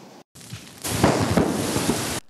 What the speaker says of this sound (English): When lava travels over vegetated areas, it can ignite methane gas that is built up underground and cause explosions.